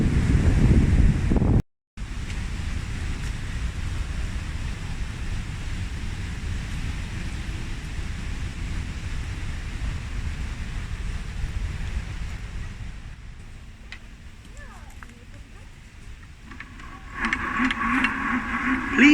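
Water rushing over a weir on the River Trent, a steady broadband roar with wind buffeting the microphone, briefly cutting out then thinning before a louder burst near the end.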